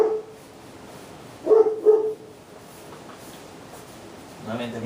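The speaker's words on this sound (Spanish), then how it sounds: "Nuevamente mis excusas por los ladridos del perro del vecino." A neighbour's dog gives two quick barks in close succession, somewhat distant behind a low steady hum. A voice starts talking near the end.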